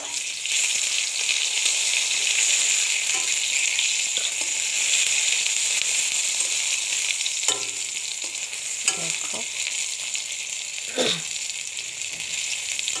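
A bay leaf frying in a little oil for a chicken skin dish, giving a loud, dense, unbroken sizzle that holds steady from start to finish, with a few faint clinks near the end.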